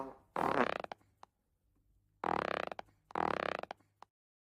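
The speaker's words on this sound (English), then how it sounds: "Everyone fart now." Cartoonish fart sounds from a group at once, three loud buzzing bursts with rattling tails, separated by short silences, close and clear with no talk.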